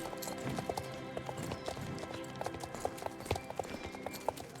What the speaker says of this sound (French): Vous les entendez, les chevaux?